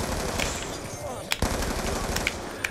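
Automatic weapons fire in the shooter game Call of Duty: Black Ops 2. It forms a dense, continuous rattle of gunfire with a few sharper, louder shots standing out.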